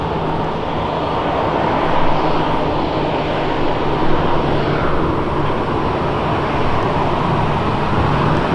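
Steady, loud roar of aircraft at Brisbane Airport, with a broad rumble and a faint low hum running continuously throughout, no clear approach or fade, with road traffic noise blended in.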